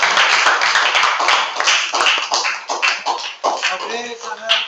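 Students in a classroom applaud, with close, uneven clapping from several pairs of hands and some voices mixed in.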